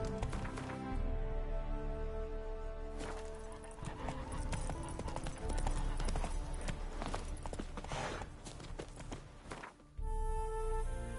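Hooves clip-clop rapidly as the horse Roach gallops in The Witcher 3 Wild Hunt, Heart of Stone, a steady close rhythm over game music and ambience, with a brief whinny-like snort near the end.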